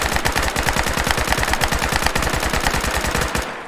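Rapid, sustained automatic fire from a PPSh-41 submachine gun in Fallout 4, with evenly spaced shots in a fast, unbroken rattle for over three seconds, loud and close, ending abruptly. No voices.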